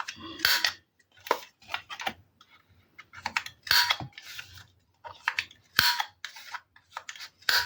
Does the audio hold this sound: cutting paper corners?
yes